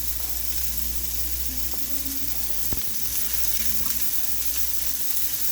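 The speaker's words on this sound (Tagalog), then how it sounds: "igigisa na natin ang ating sibuyas at bawang" Chopped onion and garlic sautéing in a small frying pan, a steady close sizzle and crackle of hot oil running throughout, with a faint stir or clink partway and no talking.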